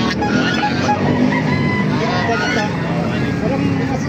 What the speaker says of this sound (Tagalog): Mga Chinese chicken no?